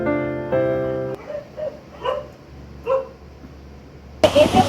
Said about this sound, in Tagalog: Pasensya na kayo may aking aso.